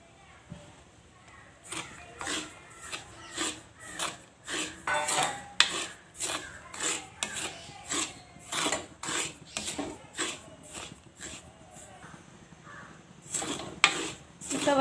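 Dry semolina (rava) being stirred and scraped in a pan at moderate heat for Sri Lankan-style upma, giving a repeated rhythmic rasping scrape, fairly close, with short pauses between strokes.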